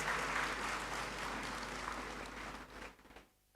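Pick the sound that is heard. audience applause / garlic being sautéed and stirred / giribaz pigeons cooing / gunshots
audience applause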